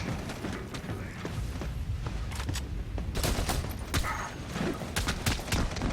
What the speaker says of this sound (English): I hear gunshots going off around us.